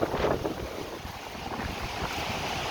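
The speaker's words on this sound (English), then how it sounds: "That wind's blowing those embers." Strong outdoor wind gusts near a fire, blowing embers around, a loud, close, continuous roaring rush buffeting the microphone with no talking.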